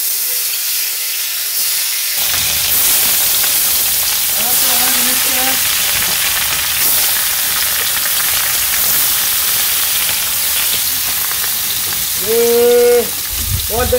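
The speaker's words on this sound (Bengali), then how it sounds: "তেলটা গরম হয়ে গেছে আমি মাছটা দিয়ে দিই" Rohu fish hits hot oil in a village-style kitchen, and after a moment of silence a loud, hissing sizzle bursts out and carries on steadily, with brief voices in the background.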